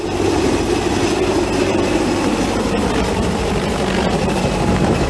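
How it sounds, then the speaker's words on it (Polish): Helicopters working over a breached flood levee, a loud, continuous rotor and engine roar that stays steady throughout with no voices over it. "wyrwę próbowano załatać z wykorzystaniem śmigłowców"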